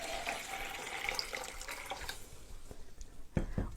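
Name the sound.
water being added to a water kefir jar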